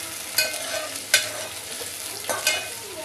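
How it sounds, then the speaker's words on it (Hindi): Potatoes and onions fry in a pan with a masala for chicken pulao, a continuous close sizzle broken by several scraping stirs of a spoon, without talk. "आलू भी साथ ही साथ भुने जाएगा इसमें"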